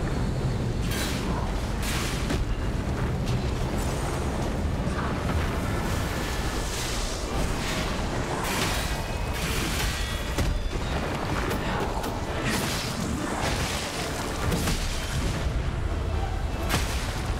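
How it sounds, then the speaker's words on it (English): Airstrike explosions in a video game: dense, continuous rumbling blasts and booming impacts roll on for the whole stretch, loud and close, with artillery-like bursts overlapping one another and no clear gaps. "here comes the airstrike"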